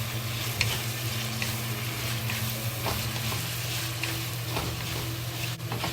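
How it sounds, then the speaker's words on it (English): Pork strips stir-fried over high heat with a tablespoon of soy sauce, for celery with pork, give a steady close sizzle with scraping stirs and a few sharp clinks of the utensil throughout. "we just turn the fire to the high fire. And add 1 tablespoon of soy sauce to it"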